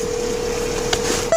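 A phone on speakerphone, held out on a city street during an arrest, gives a steady, fairly loud electronic tone with a couple of brief beeps near the end and no talking.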